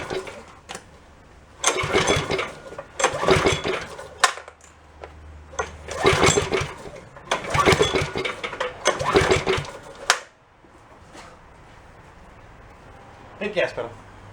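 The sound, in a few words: small go kart engine starting with choke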